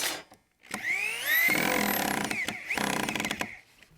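Three-inch screws driven by a power drill into wooden deck legs of a skateboard halfpipe: a whining, rising motor burst and then a second grinding run, loud and close, with no talking.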